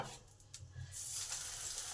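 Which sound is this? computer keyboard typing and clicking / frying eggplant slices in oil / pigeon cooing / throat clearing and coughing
frying eggplant slices in oil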